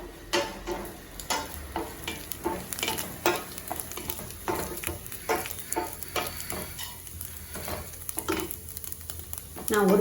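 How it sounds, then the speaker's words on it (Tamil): Coconut and cashews dry-roasting in a pan, with a soft crackle under repeated rhythmic scrapes and stirring strokes of a spoon, close by and without talk. "இப்போ தேங்காய் ஒரு அரைவாசி வறுபடும் போதே அதில் நம்ம முந்திரியும் சேர்த்து வறுத்து எடுத்துடலாம்"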